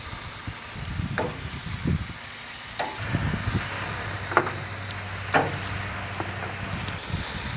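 Asian-marinated pork belly sizzles steadily on a Hasty Bake charcoal grill, a continuous close hiss punctuated by scattered pops and crackles.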